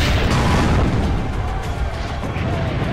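Cannon fire in the video game Assassin's Creed: Brotherhood, a dense, loud booming roar of explosions filling the whole stretch without a clear break.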